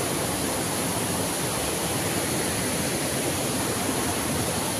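Waterfall at Chandandara, a dense, steady roar of falling water filling the scene evenly from start to finish, close and unbroken, with no voices.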